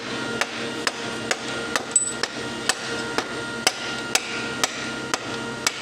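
Hammer striking the connecting rod cap of an Audi R8 V10 engine, a dozen or so sharp metallic taps at a steady, fairly quick pace over a constant background hum, no talk.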